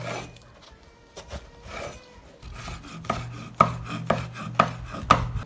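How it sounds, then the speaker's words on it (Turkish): Eggplants being chopped with a knife on a cutting board, soft scraping at first, then a run of sharp, evenly spaced chops that grow louder and more distinct toward the end, with no voices. "Şimdi patlıcanları doğrayacağım ve içerisine atacağım."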